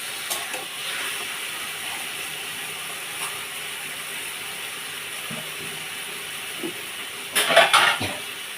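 Spice paste for an okra curry frying and being stirred in a pan, a steady close sizzle with scraping strokes, ending in a louder clatter of utensil against the pan.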